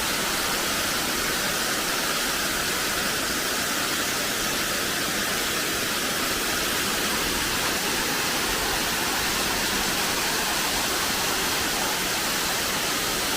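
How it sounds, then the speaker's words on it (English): Haven Falls waterfall roars in a woodland setting, a steady, dense rush of falling water that holds constant and loud throughout with no voices over it. "Beautiful waterfall."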